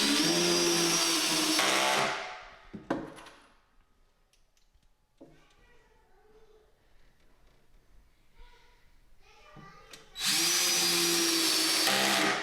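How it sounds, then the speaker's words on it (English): A power drill whirs loudly for about two seconds while drilling a hole in the back of a kitchen cabinet during installation, stops, then after a stretch of quiet handling noises starts up again at the end. "I'm gonna have to drill a hole, get those into the back of the cabinet."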